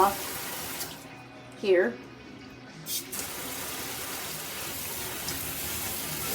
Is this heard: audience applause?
no